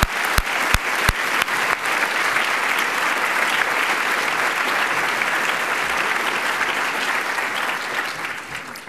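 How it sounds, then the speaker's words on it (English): An audience at an opening event for a charity real estate auxiliary bursts into sustained applause, dense and loud clapping from a large crowd that holds steady for several seconds before tapering slightly. "So that deserves some applause, too."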